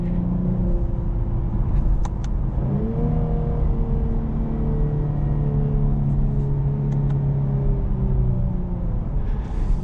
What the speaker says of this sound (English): This car sounds so grunty.